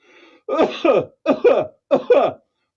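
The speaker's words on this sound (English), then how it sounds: "nursing a slight cough." Three short bouts of coughing, each a pair of harsh throaty coughs, close and clear after a faint breath at the start.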